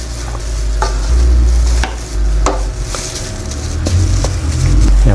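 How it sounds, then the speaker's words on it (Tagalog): Chopped bottle gourd (upo) sautéing in a pan is stirred with a series of scraping, clacking utensil strokes over a steady low sizzle, close and fairly loud throughout. "Haluin ko lang po."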